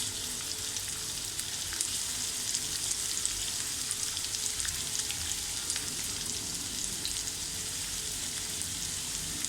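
Chopped onion for egg bhurji sizzles in hot oil in a pan, a continuous crackling fry at moderate loudness with faint stirring throughout.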